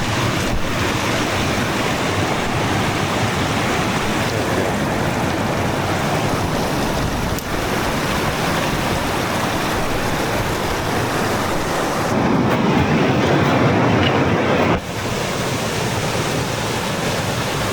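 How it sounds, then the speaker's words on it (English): A waterfall in the Alaskan outback roars in a steady, loud, unbroken rush of water close by, with wind buffeting the microphone and no voices over it. "We got waterfalls."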